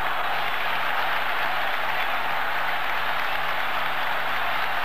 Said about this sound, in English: no wonder there's such tremendous applause from these packed Hampden terraces